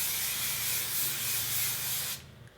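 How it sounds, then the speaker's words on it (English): A long, continuous hiss of hairspray sprayed onto short curled hair, close and steady for about two seconds before cutting off. "Spray."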